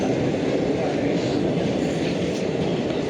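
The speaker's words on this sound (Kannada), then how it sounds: "ಪಾಂಡವಪುರ ರೈಲ್ವೆ ಸ್ಟೇಷನ್ ತೋರಿಸ್ತೀನಿ ಬನ್ನಿ ಹೊರಗಡೆ ಹೇಗೈತೆ ಅಂತ." Train rumbling at Pandavapura railway station, a steady broadband roar of rail cars heard outdoors at moderate volume without distinct clacks or horn.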